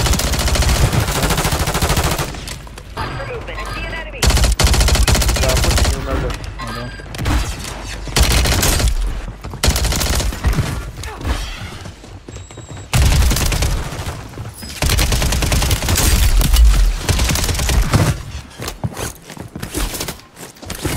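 Loud, close gunfire in a Call of Duty Warzone match on Rebirth Island comes in repeated bursts of rapid automatic shots, separated by short pauses and mixed with booms and mechanical clatter.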